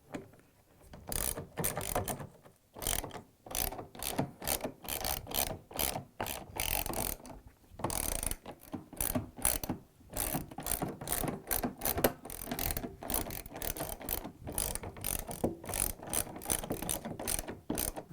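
Ratchet wrench tightening the drum baffle screws inside a Samsung washer basket, a long run of rapid clicking bursts close up, pausing briefly between strokes, with no talking.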